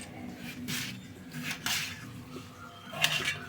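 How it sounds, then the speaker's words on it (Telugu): A knife cuts a cucumber into small pieces in a village kitchen, producing soft, irregular scraping chops spaced about half a second apart, close but fairly quiet. "ఇప్పుడు దోసకాయని కొంచెం ముక్కలుగా కోసుకుందాం"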